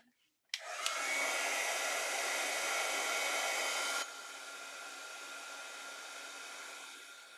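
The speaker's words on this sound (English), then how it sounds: "And then grab my heat gun." A heat gun blows on drying ink on a stenciled floral card, switching on abruptly with a loud, steady whoosh, then dropping to a lower setting partway through and running on alone until the end.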